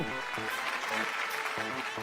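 A studio audience on the Malayalam game show Super Bumper claps steadily and loudly, with a voice speaking over the applause throughout.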